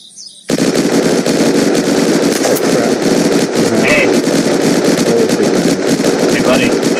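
Dense, continuous automatic gunfire with rapid bursts and crackling, loud and sustained throughout, from a firefight in the video game Unturned.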